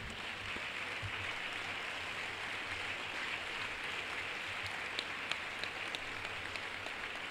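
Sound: standing ovation applause for students

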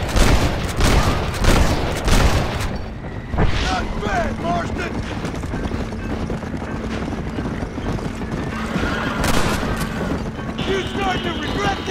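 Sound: gunshots in the video game Red Dead Redemption

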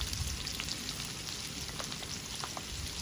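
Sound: crushed garlic added to a frying pan, sizzling

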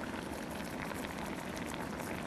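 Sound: crispy microwaved fried pork cutlet crackling like rustling leaves

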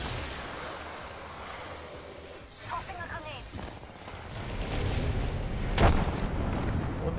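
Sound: grenade explosion in a video game

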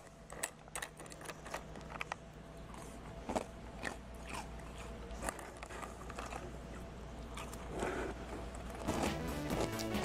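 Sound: person crunching while eating cereal

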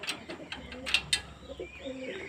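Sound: pigeons let out of their coop

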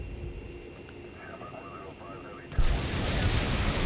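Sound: bomber strike on enemy base, from a video game

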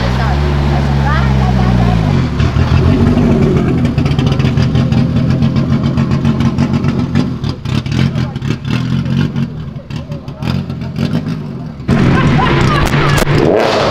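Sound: Volkswagen Golf R turbo car engine

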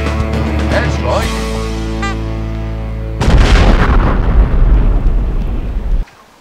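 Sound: airstrike explosion attack effect in animated parody

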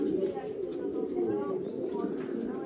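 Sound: pigeon cooing

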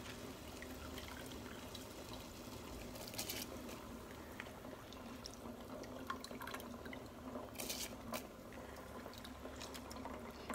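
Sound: water boiling in a pot for prawn biryani

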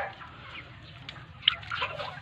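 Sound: broiler chickens clucking

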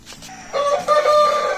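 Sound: Índio Gigante rooster crowing

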